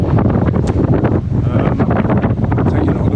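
Strong, breezy wind buffets the microphone on a sailboat heading up a channel under a small scrap of mainsail. The roar is loud, gusty and continuous, with water noise underneath.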